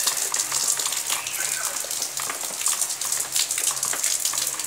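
Steady rain falls outdoors, a dense, even hiss of drops pattering on surfaces, close and continuous with no clear gaps.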